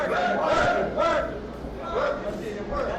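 Crowd cheering in bursts during the championship round of a boxing match, loud surging roars and shouts that rise and fall every second or so.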